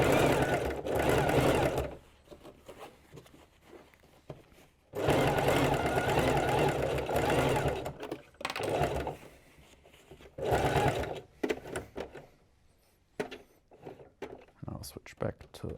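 A sewing machine stitches a denim workwear jacket in three loud, sustained bursts with short pauses between them, followed by quieter intermittent handling noises toward the end.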